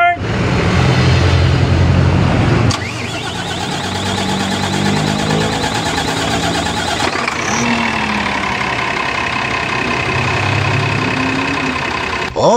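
HOWO truck diesel engine idling with a steady rumble after a new injector was fitted, starting with a loud burst that settles into an even, continuous idle, close by.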